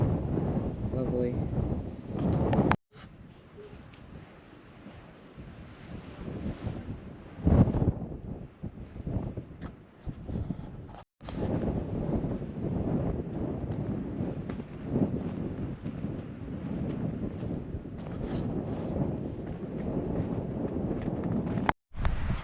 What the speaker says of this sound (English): Still very windy today